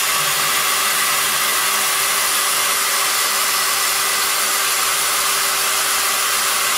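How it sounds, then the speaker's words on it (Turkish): Electric drill boring a small hole into bathroom wall tile for mounting a toilet paper holder, a loud, steady, high-pitched whirring drone held without a break throughout. "Şimdi şu yan tarafta da yine bu şekilde küçük bir deliğimizi güzelce açıyoruz."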